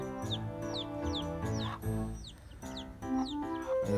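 Chicks being raised outdoors peep in a rapid series of high, rising chirps, repeating throughout against a busy, resonant background of fowl sounds.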